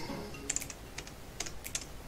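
Quick keystrokes on a computer keyboard, a handful of light clicks in two short clusters, close and fairly quiet with no talking.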